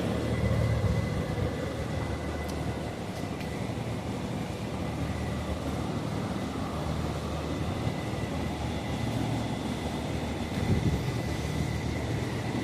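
Four ventilation fans with cooling pads run in a poultry farm shed in West Midnapore, making a constant low mechanical drone with a faint steady hum and no talking.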